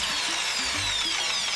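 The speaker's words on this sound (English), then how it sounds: "learn about re-drilling boards" A power drill whines steadily at high pitch, boring holes through a wooden skateboard deck with a continuous grinding buzz, close and loud throughout.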